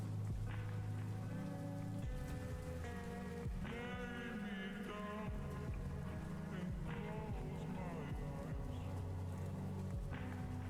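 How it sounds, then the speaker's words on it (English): A rain sample mixed into a song, a soft patter of falling rain running steadily under the tonal music and sung notes, faint in the overall mix. "I like the addition of the rain too."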